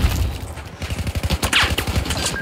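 Gunfire in the video game Battlefield 4, a rapid run of loud automatic shots pulsing evenly at close range with sharp impacts, heard with no talking over it.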